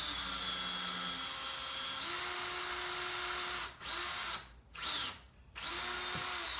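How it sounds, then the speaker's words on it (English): A power drill whines steadily while driving into pegboard during garage shelf work, its pitch rising as it bears down, then cutting off in several short stops and restarts near the end. "At least it would if my drill bit wasn't getting loose."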